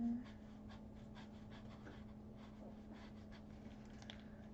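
A puppy pants in quick, even rhythmic breaths close by, soft and low-level over a steady background hum.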